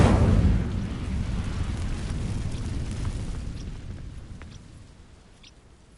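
Incendio fire spell cast in the Hogwarts Legacy video game, setting dry vines alight: a loud whooshing burst of flame opens, then a rumbling roar that slowly fades over several seconds.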